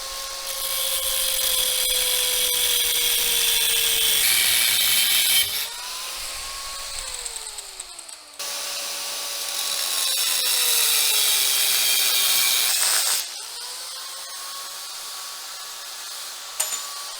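A power tool cuts and trims a metal bracket during work on an old tractor's new engine fit-up, loud and close, in two long grinding passes with a short break between and a brief stop near the end.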